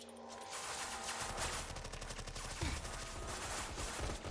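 Rapid automatic gunfire rattles in the video game Roblox SCP Roleplay, dense bursts of shots in quick succession, moderately distant and sustained across the whole stretch.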